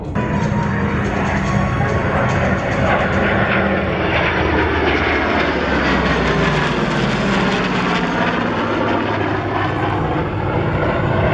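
Airplanes fly an inverted, low-power whisper pass at an air show, approaching show center at about 500 feet with throttles at idle; a loud, steady engine roar and airflow rush sweeps past the crowd with no break.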